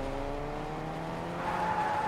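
A car driven in the video game Fortnite: a steady, loud engine drone with a rising tonal whine and a touch of tyre squeal, continuous throughout with no talk over it.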